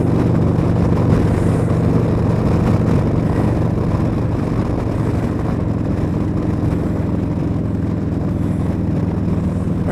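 A bagger motorcycle on carbon fiber wheels cruising at around 70 mph in wind, its engine a steady, loud, continuous drone with wind rumble that holds close throughout, no voices.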